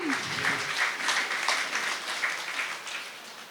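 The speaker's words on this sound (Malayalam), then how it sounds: "നല്ലൊരു കൈയടി കൊടുക്കാം." An audience applauds at a YWCA Christmas celebration in Kottayam, a dense, steady round of clapping from many hands that holds for a few seconds and then starts to thin out.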